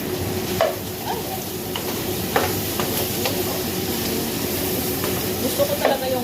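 Cubes of meat browning in a hot pan give a steady frying sizzle with occasional stirring scrapes and pops, continuous and fairly close throughout.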